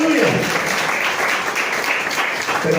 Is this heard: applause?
yes